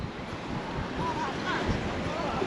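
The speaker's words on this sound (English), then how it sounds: "Seem to have brought the wind back with us." Wind gusting at Palmanova beach in Mallorca under shading pine trees, a rough, moderately loud buffeting rush with soft surf-like swells, continuous throughout.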